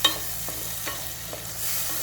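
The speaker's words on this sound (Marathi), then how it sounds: "याला आपण मिक्स करून घेऊयात मसाल्यांना।" Spice masala for chole stirred in a pan, a soft continuous fry with a few light scraping strokes of the spoon, quiet and close, with no voices.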